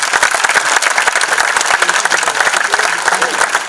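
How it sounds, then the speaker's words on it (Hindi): An audience at a felicitation ceremony for para-athletes claps loudly, a close, busy rattle of many hands with distinct sharp claps standing out, sustained throughout. "एक बार उनके लिए तालियां बजाएं।"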